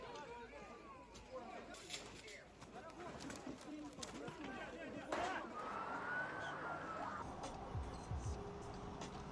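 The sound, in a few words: emergency vehicle sirens, Ukrainian firefighters and ambulances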